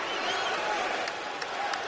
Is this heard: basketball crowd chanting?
yes